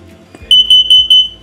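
Gas detector alarm in a 2024 Rockwood GeoPro 20BHS travel trailer gives four loud, evenly spaced high-pitched electronic beeps, close and alone after a faint knock.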